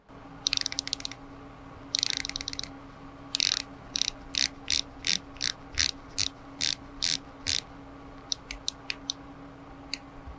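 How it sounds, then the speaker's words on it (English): Seiko Prospex SPB453 dive watch's unidirectional bezel turned in a quiet room, giving crisp, evenly spaced clicks in short bursts, then a run of single steady clicks and a few quick faint ones at the end. "Now let's go ahead and give this a click test."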